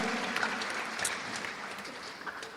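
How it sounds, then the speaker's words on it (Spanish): A church congregation applauding, a faint, steady wash of many hands clapping at a distance, briefly and without talk. "Dele un fuerte aplauso al Señor, amén."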